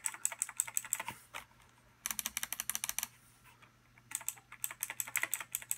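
Typing on a Razer Ornata Chroma keyboard without bottoming out the keys, rapid even bursts of crisp clicks in three runs separated by brief pauses, close and clear over a faint hum.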